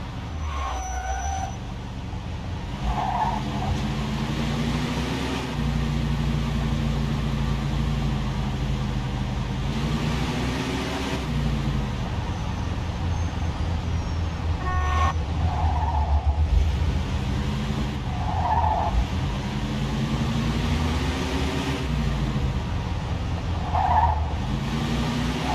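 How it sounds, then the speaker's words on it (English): A car driven in the video game Mafia 2, engine droning steadily with rising and falling pitch as it shifts and accelerates, over continuous road noise and a game soundtrack bed. "Drive through the gate and into the yard."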